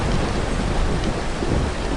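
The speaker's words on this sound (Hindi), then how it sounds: "तब रात होते ही जोरों की बारिश होने लगती है।" Heavy night rain pours down in a dense, loud, unbroken roar, with a deep rumble of thunder running underneath and no voices.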